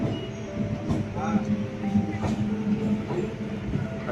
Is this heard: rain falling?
no